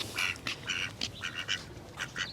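Several ducks being fed at a Venice canal in Los Angeles give repeated nasal quacks, about a dozen uneven calls in a row. They sound close and fairly clear over a faint outdoor background, with no talk.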